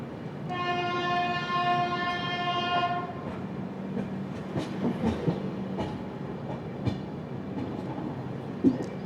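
Long, sustained horn of the 16334 Trivandrum Veraval Express, loud and near for about two and a half seconds, followed by rumbling wheels and clattering carriage noise as the train runs on.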